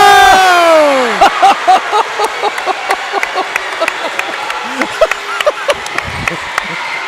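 A high school basketball crowd at a senior night game, Caldwell County Tigers vs Livingston Central, cheers a made three-pointer from the left wing with scattered, steady clapping and shouts, a voice heard over it.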